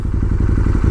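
A 2014 KTM 1290 Super Duke engine idles nearby with a loud, lumpy, evenly pulsing thump, heard alone for a brief moment.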